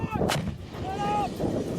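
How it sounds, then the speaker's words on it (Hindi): An L119 howitzer fires a shell with a sharp, heavy boom near the start, followed by rumbling echoes and a whining tone, loud and close. "L119 होवित्जर से एक बार में 8 गोले तक दागे जा सकते हैं।"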